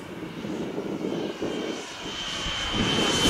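An HSD Jets T-33 model jet with a 120mm electric ducted fan passes at half throttle, a loud continuous whooshing roar that swells steadily as it approaches, with no voices.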